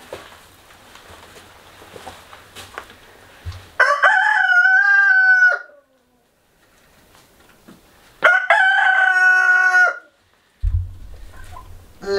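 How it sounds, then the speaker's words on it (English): Backyard coop chickens crow loudly in two long, harmonic calls separated by a short quiet gap, with softer clucking and shuffling noise before and after. "Loud chicken."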